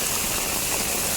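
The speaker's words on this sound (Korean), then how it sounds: "지금 폭포도 엄청 많이 지금 폭포 같은 것도 막 형성돼 있습니다." Rainwater cascading like small waterfalls during a heavy downpour with wind, a loud, continuous rushing gush filling the whole moment.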